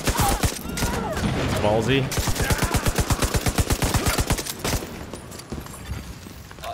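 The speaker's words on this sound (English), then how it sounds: "someone's rocking semi-auto weapon" Semi-automatic weapon fire in The Division 2: a quick, regular volley of sharp, loud shots in the middle of the stretch, with someone talking briefly before it and quieter action afterward.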